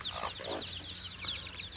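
Chickens cluck in short bursts while pecking at black soldier fly larvae, fairly close, with small chick peeps mixed in and no talking.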